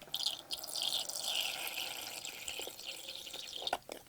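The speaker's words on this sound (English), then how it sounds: "So all we've got to do now is fill this water bowl up" Water is poured into a tarantula's water bowl while rehousing an Avicularia, a soft, steady trickle that runs for about four seconds, close and quiet, with a few brief clinks near the end.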